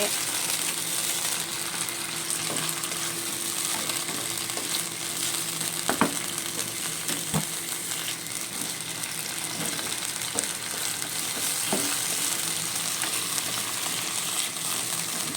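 Beans and minced pork with fermented black beans (tausi), sauce and spring onion frying in a pan, giving a steady loud sizzle throughout with a few sharp clinks of a utensil against the pan.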